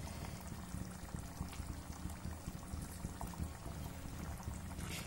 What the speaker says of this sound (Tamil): கொதிச்சுட்டு இருக்கு